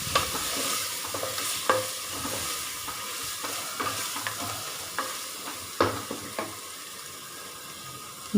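Mutton biryani mixture being stirred in a pressure cooker, a steady low sizzle under frequent scraping strokes of a ladle against the metal, close up, with a sharper clank near the end and no talking.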